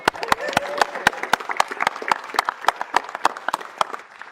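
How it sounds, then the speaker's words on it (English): Sparse applause from a small group at a city council meeting, individual claps standing out clearly in an uneven rhythm, with faint crowd murmur underneath. "Can we give them a round of applause, please?"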